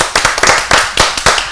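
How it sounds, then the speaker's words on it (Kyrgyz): Studio audience at a Kyrgyz game show claps for the contestants in rhythmic, sharp bursts, close and loud, sounding like a small group clapping in unison rather than a broad ovation. "Кол чабуулар."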